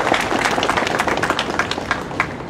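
An audience at a Vietnam War veterans ceremony claps steadily, a dense patter of many hands with no voices rising above it.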